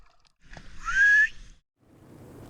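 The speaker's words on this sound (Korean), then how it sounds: "수면 위로 올라온 해녀들이 부는 휘파람은 몸속 이산화탄소를 배출하면서 동료들에게 자신이 살아있음을 알리는 소리입니다" A single breathy, high whistle from a Korean woman sea diver surfacing from the water rises and fades over about a second, heard close and alone against faint background noise.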